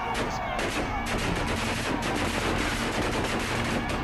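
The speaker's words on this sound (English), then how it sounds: "These are gunshots of our warriors" Rapid, continuous bursts of gunfire crackle densely and loudly throughout, like volleys of shots blending together with no pauses, in Dagbon.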